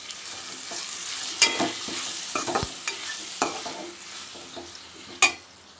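Fenugreek leaf and tomato curry stirred in a pan, with a soft continuous sizzle broken by several scraping strokes and two sharper clanks of the spoon against the metal, close and moderately loud, no talking.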